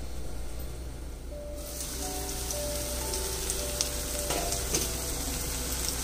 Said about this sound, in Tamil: இப்போ அந்த அளவுக்கு நம்ம மசாலாவை வதக்கிக்கணும்.